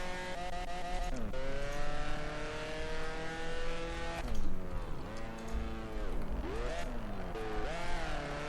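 Engine revving and rising through gears in Drift Streets Japan, a game car sliding into corners with pitch sweeps and dips as the throttle is worked, loud and continuous with no talk.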